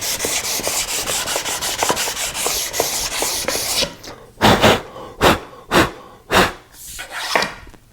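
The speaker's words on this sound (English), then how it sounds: "I just need to remove the glue wherever these joints are going to be." A sandpaper jig rasps back and forth over glued wood joints, first in quick, even strokes, then in about six slower, separate scrubbing passes with brief gaps between them. Close and loud, no speech.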